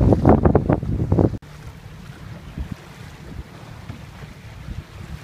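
An electric boat crosses Tampa Bay on a rough, windy day: heavy wind buffets the microphone at first, then drops to a steady low rumble of wind and water around the hull, with no talk.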